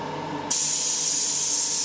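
Airbrush spraying cleaner through its nozzle, a sudden loud steady hiss that starts abruptly and holds evenly after a brief quiet hum.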